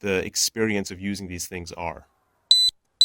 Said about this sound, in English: What you're hearing there is the lost camera alarm.